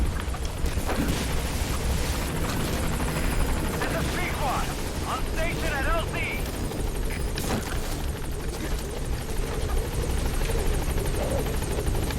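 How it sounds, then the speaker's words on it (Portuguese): Helicopter in Metal Gear Solid V, a loud continuous rotor roar filling the whole stretch with a dense, steady texture, with faint voices and scattered game sounds mixed beneath it. "deixa eu chamar o helicóptero"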